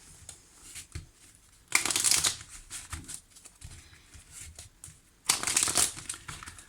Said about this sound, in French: je commence ce tirage avec l'oracle améthyste et puis je recouvrirai avec le line of love